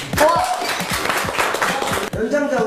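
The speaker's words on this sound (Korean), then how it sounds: "박수." Applause and clapping from a studio audience on a Korean variety show, a dense patter of hands filling the short stretch with voices mixed in.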